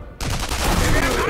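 A single sniper rifle shot in the video game Sniper Elite V2, a sudden loud crack that rings out into a long rumbling echo.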